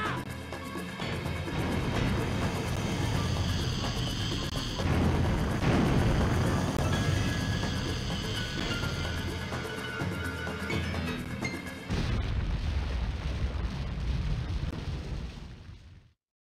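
A missile launch and explosions from the Sonic Adventure DX video game, during Tails' story, form a continuous, loud, dense roar of blasts and rumbling. The roar briefly drops near the end and then resumes until a sudden cutoff.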